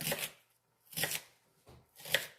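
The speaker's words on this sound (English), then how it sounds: "So I'm just going to chop up an onion" Three firm knife chops through an onion on a cutting board, evenly spaced about a second apart, close and crisp with brief pauses between.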